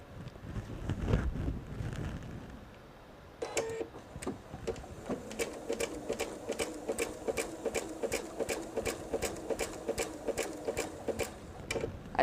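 A sewing machine zigzag-stitches precut fabric strips for a jelly roll purse, starting with a few slow stitches and then running in a quick, even rhythm of close mechanical clacks, with faint wind-like rumble early on.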